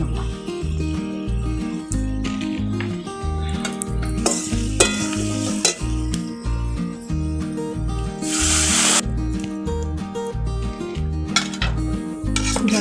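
Cumin paste, turmeric and water cook in a pan for a Bengali hilsa curry with elephant foot yam, sizzling steadily while a utensil stirs and scrapes against the pan in a repeating rhythm, close and continuous.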